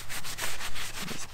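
A cloth rubs and wipes over a kayak's surface, cleaning off residue with ammonia-based cleaner, in close, brisk back-and-forth strokes with a dry scrubbing texture.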